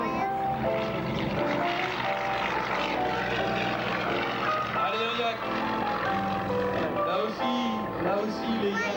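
Propeller engines of Yak aerobatic aircraft drone continuously at a French air show at Darois, a loud, sustained roar with shifting pitch as the planes maneuver, while a commentator talks over it.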